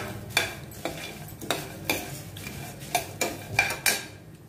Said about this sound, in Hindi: इसी में डाल दूंगी मुरमुरे जो भून के निकाले थे, और इसे भी साथ में मिक्स कर लेंगे।